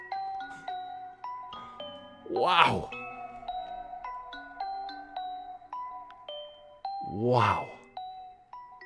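Eerie chiming bells from an instrumental, quiet tinkling tones ringing and decaying in a sparse pattern, with a nearby voice exclaiming twice over them.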